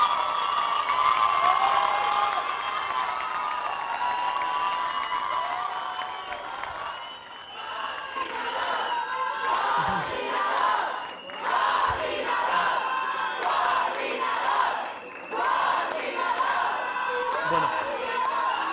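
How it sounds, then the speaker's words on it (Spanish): A crowd applauds and cheers for a state coordinator at a public event, with whoops and shouting over clapping and loud sustained cheering. "Un gran aplauso a nuestro coordinador estatal"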